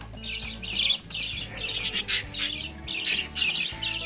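A cockatiel squawks repeatedly at close range, harsh bursts coming in quick irregular runs with short gaps in between, loud and with no talking.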